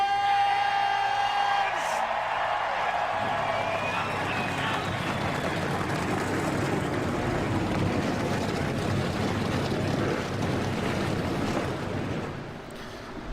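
Race truck engines start up loudly at Darlington Raceway in a racing video game, a sustained broad roar of many engines that holds steady for the whole stretch after a brief tonal lead-in.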